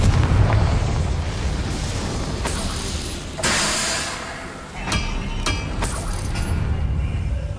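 A Confringo fire-blast spell cast in the video game Hogwarts Legacy bursts out loud and full over a dense game soundscape, with a few sharp crackling pops and a swelling rush midway.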